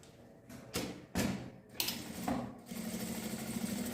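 Sewing machine stitching across a fabric strap, with short bursts of motor whir separated by brief thumps and pauses, then a steadier continuous run toward the end, fairly quiet and close.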